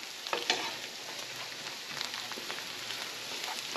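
Flour cooking in butter in a pan makes a soft, continuous sizzle with a few light scraping ticks near the start. No voices.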